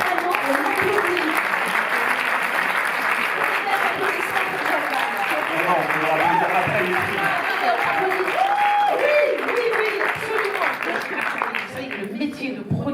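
Audience applause at a Paris cinema screening event for short films, a dense, steady clapping that fills the room for about thirteen seconds, with faint voices and whoops mixed in beneath it.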